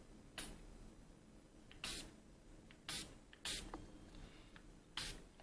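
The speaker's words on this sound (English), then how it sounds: "I'm going to spray this side with Final Seal" Makeup setting spray misted onto a face, five short sharp hissing pumps at irregular intervals, close and distinct against a quiet background.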